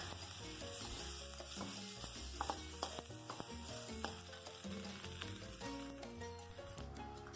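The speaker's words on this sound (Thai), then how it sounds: "พอเราผัดจนพริกแกงหอม เราก็ใส่ลูกชิ้นลงไปผัดเลยค่ะ" Beef meatballs stir-fried in curry paste, with continuous frying sizzle and irregular clacks and scrapes of a spatula against the pan, fairly faint, no talking.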